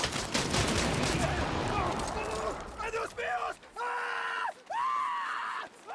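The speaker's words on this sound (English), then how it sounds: "I vote this to be the new Wilhelm scream." Screams and yells ring out over dense gunfire in the Saints Row (2022) video game, with a drawn-out cry repeating in loud, rising bursts as the shooting fades.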